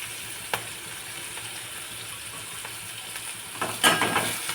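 Fenugreek leaves hit hot oil in a pan for a potato-and-fenugreek curry, giving a steady close sizzle with a few brief clatters of utensil against the pan.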